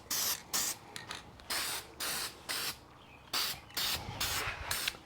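Heat resistant silver spray paint goes onto a Kawasaki F7 brake plate in a series of short, loud hissing bursts with brief pauses between them, close up and with no voices.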